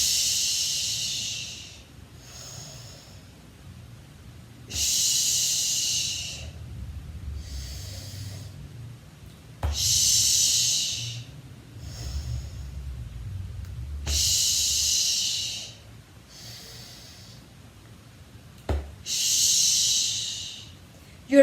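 Alternate nostril breathing exercise: slow, hissing nasal inhales and exhales through one nostril at a time, close and clear, repeating in a steady cycle of long breaths about every five seconds with quiet pauses between.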